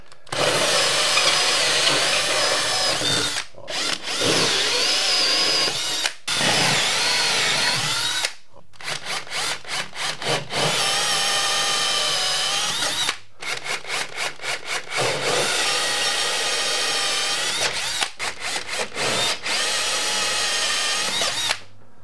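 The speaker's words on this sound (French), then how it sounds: "Allez, je vais faire les trous maintenant." Power drill boring holes for a plasterboard (drywall) installation, loud sustained whirring and grinding in long bursts separated by brief pauses, close up with no talking.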